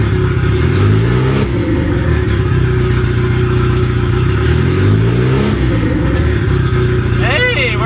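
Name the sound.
Honda Civic engine idling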